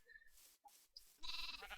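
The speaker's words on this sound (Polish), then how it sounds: "Mamy pierwszą owcę, owca oczywiście nie wyjdzie, bo są drabinki o jeden blok wyżej." Sheep in Minecraft, penned in by ladders, bleat in a few short nasal calls, with brief pauses between them and a louder, denser bleat at the end.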